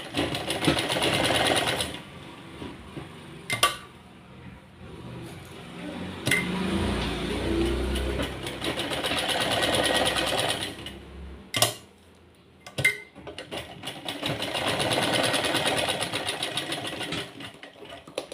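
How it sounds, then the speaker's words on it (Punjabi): A sewing machine stitching a Farshi salwar runs in three loud, rapid mechanical bursts, separated by quieter pauses with clicks and handling knocks. "ਆਪਾਂ ਨੇ ਹੁਣ ਐਦਾਂ ਚਾਰੇ ਬੰਨੇ ਸਲਾਈ ਲਗਾਉਣੀ ਆ"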